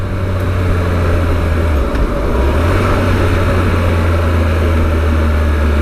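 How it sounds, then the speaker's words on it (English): A 2018 Triumph Tiger 1200 triple-cylinder motorcycle engine runs loud and close in a continuous low drone, its pitch dipping and rising again around the two-second mark, under heavy wind rush and with no voices. "when you get the revs up high, it sounds fantastic, and it being a triple means it's nice and smooth."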